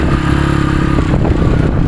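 A motorcycle engine runs loud and steady beside a water-pumping setup, a continuous close drone with slight clatter and no talk.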